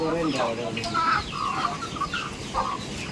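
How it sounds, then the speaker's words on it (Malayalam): Several native hens, black Kadaknath hens and laying hens clucking nearby on a dairy farm in short, irregular bursts, with a faint voice in the background. "നാടൻ കോഴികൾ കരിങ്കോഴി മുട്ടക്കോഴി എന്നിവയും ഇവിടെയുണ്ട്"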